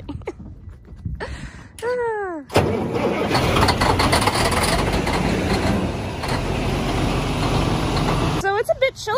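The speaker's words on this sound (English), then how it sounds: "Do a cold start." A truck engine cold-starting on a frosty morning at about 12 degrees: the starter whines in rising bursts, the engine catches with a loud roar, then settles into a rough steady idle.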